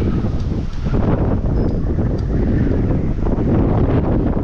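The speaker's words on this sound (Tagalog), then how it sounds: "Grabe hangin" Strong wind roars continuously across the microphone at a campsite on a solo bike-packing trip, loud, dense and buffeting with no pause.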